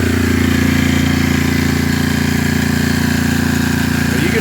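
A Coleman Powermate 6250 portable generator runs steadily under load, its engine holding a loud, even, buzzing drone with no change in rhythm throughout.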